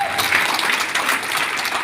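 An audience at a seminar clapping together, a dense, continuous patter of many hands at moderate distance, sustained evenly for a couple of seconds.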